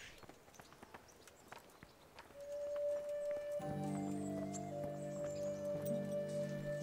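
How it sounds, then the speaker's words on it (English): Faint hooves clip-clop from a horse in the medieval video game Kingdom Come: Deliverance. Light, scattered taps come first, and then louder sustained tonal game sound swells in underneath them. "Bernard's horse."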